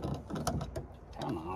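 Screws being driven to mount a surveillance camera on a homestead: a steady mechanical whirring and ratcheting churn runs throughout, fairly loud and close, with a voice talking over it.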